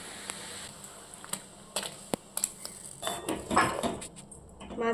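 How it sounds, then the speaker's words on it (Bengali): Prawns go into a pot of simmering curry with a few light metallic clinks of utensils against the pot and soft splashing, quiet and close. "এখন মাছগুলো দিয়ে দেবো।"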